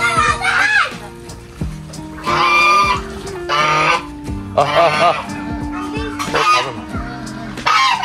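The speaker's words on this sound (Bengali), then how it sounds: "মুরগি ঢুকছে।" Loud clucking and squawking of chickens in short bursts, with honking fowl calls and people talking in between.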